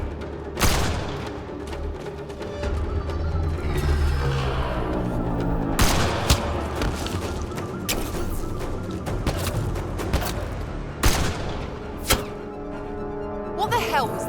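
Gunfire in the video game Mass Effect: Andromeda, with repeated shots and sharp cracks spread through a busy, loud combat mix, under shouted voices and music.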